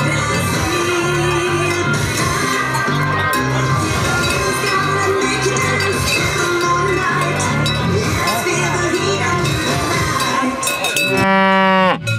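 Cattle grazing in a valley pasture in September, with many cowbells clanking and jangling continuously, close and loud, joined by occasional moos and a crowd-like background.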